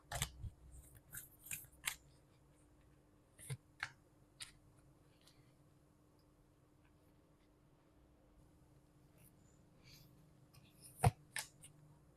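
Oracle cards shuffled and pulled for a love reading, a few sharp papery snaps and flicks clustered at the start and end, close and soft, with a long quiet stretch between.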